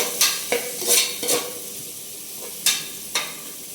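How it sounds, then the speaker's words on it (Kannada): Chopped green chilies and onion fry in a pan for palak sambar, a soft steady sizzle broken by several sharp spatula scrapes and clacks spaced unevenly across the stretch. "ನೋಡ್ಬೋದು ಮೆಣಸಿನ್ಕಾಯಿ ಕೊಯ್ದೀವಿ, ಅದು ಒಂದು 4 ಪೀಸು ಫ್ರೈ ಆಗಬೇಕು"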